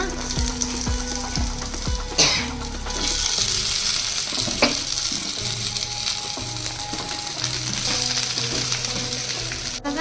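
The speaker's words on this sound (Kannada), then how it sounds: "ಇದನ್ನು ಚೆನ್ನಾಗಿ ಫ್ರೈ ಮಾಡ್ಕೊಳ್ಬೇಕು." Chicken kebabs fry in a pan with green chilli and curry leaves, giving a loud, steady close sizzle throughout, with scraping stirs breaking in now and then.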